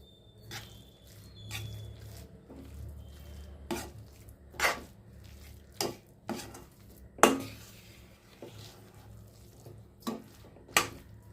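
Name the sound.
stirring cardamom powder into the puran mixture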